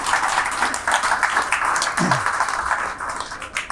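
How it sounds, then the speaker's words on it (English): Audience applause for a guest at a talk-show style interview, a dense wash of many hands clapping fairly close and steady for the whole stretch, with no one speaking over it. "we would love to give a round of applause again for Marcos for those amazing answers"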